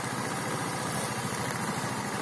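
The Omaks F35 scooter's 150cc four-stroke engine idles close by, a continuous, even mechanical hum with a steady throb and no other sounds.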